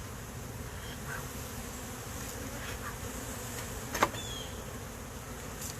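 Honey bees from a backyard hive buzz in a steady, dense drone that stays close and even throughout, with one brief louder knock partway through and no voices.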